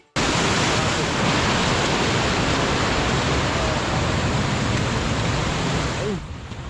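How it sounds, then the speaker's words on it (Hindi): Ganesh Nala, a waterfall on the Kinner Kailash trek, roars as a loud, steady wash of rushing water close by, continuing unbroken for several seconds before fading slightly near the end. "हमें एक झरना मिला जिसे गणेश नाला भी कहा जाता है।"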